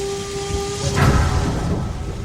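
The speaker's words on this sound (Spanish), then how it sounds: "toda la noche ha estado lloviendo y hace mucho frío" Heavy rain falls through a cold night with a burst of thunder rumbling in the middle, a steady hiss of rainfall continuing around it, loud and close.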